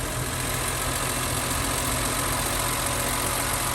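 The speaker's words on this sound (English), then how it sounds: "Yeah, let's give it a quick rev." A BMW E46 M3's straight-six idles steadily and close up, a dense, constant mechanical hum with no clear rev rise and no talking over it.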